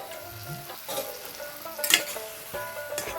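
Chicken seasoned with salt and turmeric sizzles steadily in a hot pan, a close, crackling fry with a few stirring scrapes and clinks over it.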